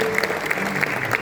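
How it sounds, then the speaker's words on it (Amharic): Church congregation clapping during a wedding ceremony, a steady patter of hands filling the room with a few sharper claps standing out, fairly close and even over the short stretch. "አጨብጭቡ።"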